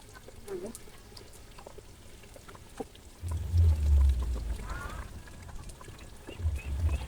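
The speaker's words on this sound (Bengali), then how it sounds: "অল্প করে জল দিব" Water poured into simmering beef curry for an Eid dish, a low gushing pour that starts partway through, swells, then gives a short second splash near the end over faint kitchen background.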